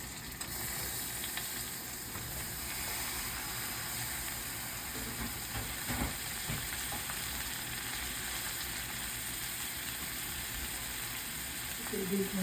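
Mushrooms and onions frying in a pan give a steady, close sizzle and hiss that holds evenly throughout, with faint stirring clatter and a brief knock midway.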